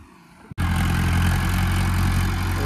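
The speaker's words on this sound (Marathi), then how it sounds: "चला ट्रॅक्टर चालू आहे" A tractor engine starts up with a sharp catch, then settles into a loud, steady, close-up running drone with a deep low throb that holds unchanged to the end.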